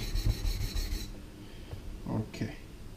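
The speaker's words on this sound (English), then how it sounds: "Rather make controlled actions on the Waterstones, and they give you great feedback." Carving tools being sharpened on a coarse Japanese waterstone, giving soft rasping, rubbing strokes in short bursts that are close and moderately quiet, with a brief stretch of steadier scraping at the start.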